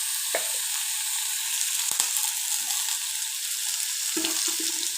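Curry leaves sauté in a pan for a curry, giving a steady, close hiss of frying oil with a few soft stirring scrapes.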